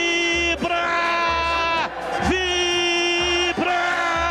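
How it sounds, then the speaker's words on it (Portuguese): A football crowd at a Guarani match roars and chants after a goal by Pablo, loud sustained cheering with horn-like tones and a stadium swell throughout. "A torcida vibra"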